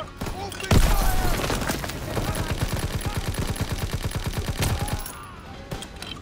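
Sustained automatic gunfire from a World War II battle in Call of Duty: WWII, rapid rhythmic bursts of close machine-gun fire with heavy impacts, running almost continuously under shouted soldier voices.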